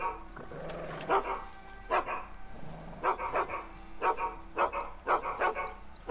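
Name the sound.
dog barking in video game Red Dead Redemption 2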